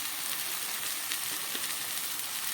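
Mutton sautéing over low gas heat with Kashmiri chili powder and spiced water, giving off a steady soft sizzle with faint crackles and no talking.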